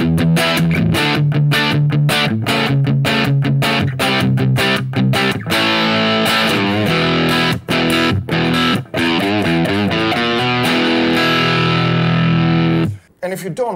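Electric guitar played heavy with distortion through an effects unit, loud chugging chords and riffs that ring on continuously before cutting off abruptly near the end.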